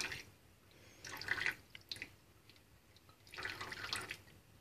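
A thin trickle of tap water falls in a small electrostatics demonstration, near a rubbed plastic ruler. It makes soft, uneven splashing and dripping that swells and fades in a couple of bursts against a quiet background.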